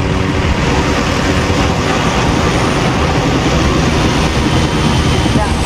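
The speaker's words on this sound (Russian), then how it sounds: "Посылает вертолет. Мы их сбиваем." A loud, steady mechanical roar with a continuous engine-like drone filling the whole stretch, like a helicopter hovering close by, in Call of Duty: Modern Warfare (2020).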